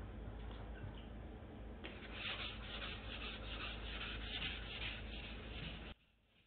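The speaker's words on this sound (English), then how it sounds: "Alright, I just finished wet sanding and it feels pretty smooth." Wet sanding a vehicle hood by hand, a soft continuous rubbing and scraping of abrasive paper over wet painted metal, close and steady, ending abruptly near the end into quiet.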